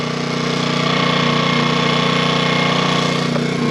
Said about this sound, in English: You caught me cooling off in the exhaust of my generator.